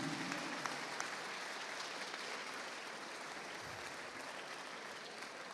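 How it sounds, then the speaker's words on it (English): Audience at a medical competition closing ceremony applauding a winning group; steady, even clapping from a large crowd throughout, moderately distant, with no talking. "give, please, a round of applause for group number 40"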